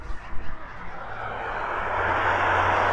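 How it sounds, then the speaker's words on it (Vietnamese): A C-Train light rail train at a station in Canada, a steady low rumble and rising whoosh that swells over a few seconds, heard fairly close with no talking. "Đó, đây là tiếng tàu."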